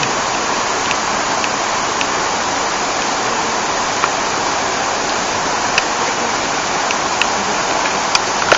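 Water seeps out of a rock cave face and falls like a small waterfall on the way to Wawa Dam, a dense, steady rushing splash heard up close with no pauses and no talk.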